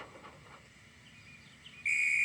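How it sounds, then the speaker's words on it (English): A train conductor's whistle at a station, a shrill, steady, high-pitched blast that starts abruptly near the end and holds loud after a quiet, near-silent stretch. "Oh, that's my conductor's whistle."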